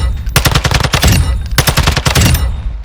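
The TAQ56 rifle in Warzone fires loud, rapid full-auto in two long unbroken bursts that empty a magazine, with a short pause between them.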